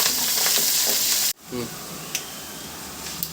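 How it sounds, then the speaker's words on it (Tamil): Onions and curry leaves fry in hot oil for a crab kuzhambu, giving a loud, dense sizzle that cuts off abruptly, followed by a quieter crackle with brief voice-like sounds and occasional sharp pops. "வெங்காயம் போடுறோம் இப்போ வந்து கருவேப்பிலையை போடும் இது நல்லா பொன்னிறமாக வெங்காயம் வேகணும்"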